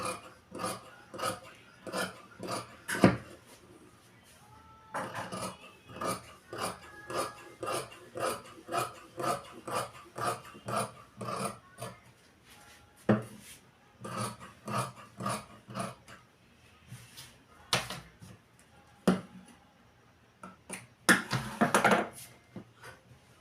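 Scissors cut fabric for a kurta in a series of rhythmic, crisp snips, close and fairly quiet, with brief pauses between runs of cuts and no talking.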